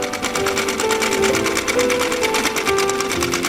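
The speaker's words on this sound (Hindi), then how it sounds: "उन्होंने सिलाई की" A sewing machine runs steadily and loudly for the whole stretch, a fast even whirr of needle strokes with a faint tonal hum beneath, heard alone with no voices.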